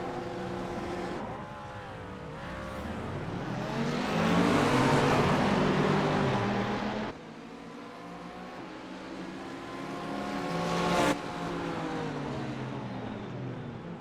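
GT3 race cars leave a standing start at Laguna Seca in a racing video game, a pack of engines roaring and revving together with whining gear changes, swelling loud before an abrupt cut to a quieter engine that climbs again.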